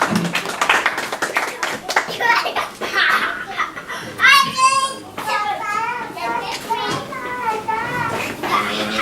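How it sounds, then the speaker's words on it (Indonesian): Clapping mixes with children's chatter and laughter, lively and close, with excited voices rising over the applause. "Sekali lagi kita berikan tepuk tangan."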